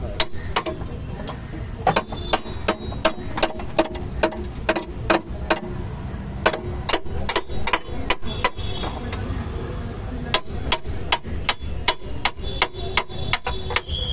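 Lower suspension arm on a Fiat Punto or Linea being tapped into place, sharp metallic hammer knocks striking in quick irregular bursts over a low workshop background, close and loud throughout.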